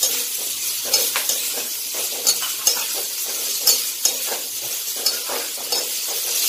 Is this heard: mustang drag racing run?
no